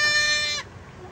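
A native goat kid sired by a purebred Red Boer gives a single close, nasal bleat lasting about half a second before it cuts off into quiet.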